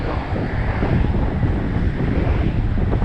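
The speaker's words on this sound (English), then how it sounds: "we've got a proper windy day today" Strong wind buffets the microphone with a steady, low, rumbling roar that never lets up.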